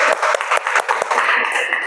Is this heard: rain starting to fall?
no